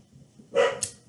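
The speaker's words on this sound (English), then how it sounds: "That's my dog, Olive." A single sharp bark from a dog reacting to a delivery at the house, short and moderately loud against a quiet room, followed by a brief higher yip.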